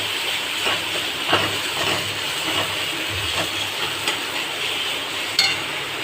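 Ground spices, coriander, cumin and ginger paste fry in a pan after dried red chillies and bay leaf, under a steady sizzling hiss with faint rhythmic scraping and ticking as the mixture is stirred.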